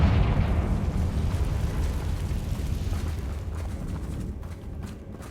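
A Confringo fire spell explosion in the video game Hogwarts Legacy: a loud, rumbling blast at the start that rolls into a long, crackling, slowly fading burn, with little else heard.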